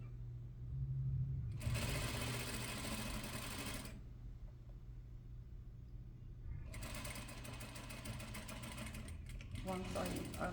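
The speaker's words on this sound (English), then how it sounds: "I will continue stitching until I get to the other end, removing my pins as I go." A sewing machine runs steadily while stitching an inseam pocket seam, in two continuous bursts of rapid mechanical whirring separated by a brief pause, close up, with a low background hum.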